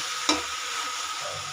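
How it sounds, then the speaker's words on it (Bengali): A spoon stirring chalta (elephant apple) pieces through sugar syrup for pickle, one sharp scrape of the utensil against the pan followed by a steady, soft sticky hiss, near and without voices. "এভাবে নাড়তে হবে যতক্ষণ না পর্যন্ত মিষ্টির রসে চালতাটা ভালো করে জড়ে যাচ্ছে"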